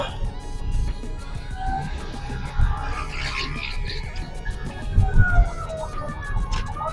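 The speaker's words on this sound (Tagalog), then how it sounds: "Yung sirena, ibig sabihin, papunta pa lang sila dun sa lugar, no?" A fire truck siren sweeps past on a road in traffic, its rising and falling wail clear over steady road and engine noise, heard from a moving vehicle.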